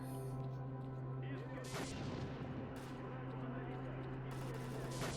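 A shotgun fires in a video game set on the road to Pripyat, giving a few loud booming blasts over a steady low in-game hum, with the shots close and heavy and no talk over them.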